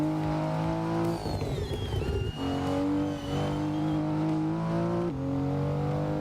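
Racing car in the Assetto Corsa video game, engine droning steadily with several gear-change shifts in pitch and brief tire noise, loud and continuous throughout.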